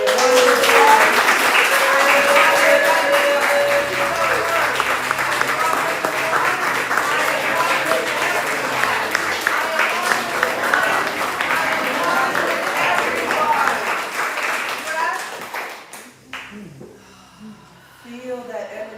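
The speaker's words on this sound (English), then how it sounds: "And now applaud it." A Sunday service congregation applauds loudly and steadily for about fifteen seconds, with murmuring voices mixed in, before the clapping fades away and a voice speaks faintly at the end.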